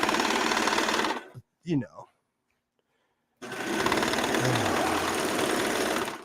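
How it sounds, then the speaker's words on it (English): A commercial serger sewing machine runs in two loud, steady bursts of rapid mechanical whirring and stitching, separated by a short pause with a brief voice; the second run continues to the end. "And this is a commercial serger."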